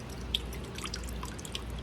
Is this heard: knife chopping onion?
no